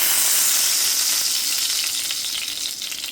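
Curry salmon fries in a pan with a loud, dense, continuous sizzle that tapers slightly toward the end, with no voices.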